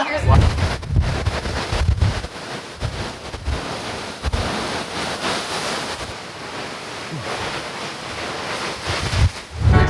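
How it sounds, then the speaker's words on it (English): Strong wind buffets and roars in loud, uneven gusts on a ship deck in rough seas, with broad rushing noise and waves churning underneath. "I'm gonna go step outside really quickly, even though it's gonna be really windy."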